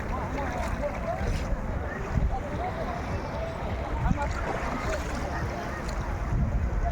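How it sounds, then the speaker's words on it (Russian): Black Sea surf rolls onto the shore in steady washes while wind buffets the microphone, with a person talking over the rushing water. "Какое прекрасное море."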